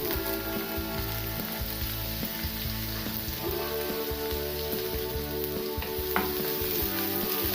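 Chopped garlic and onion fry in hot oil with a steady, close sizzle and crackle that runs without a break. No voices are heard.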